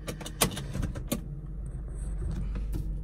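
A used auction car driving up a street, its low engine and road rumble steady throughout, with a few brief clicks and rattles inside the cabin early on.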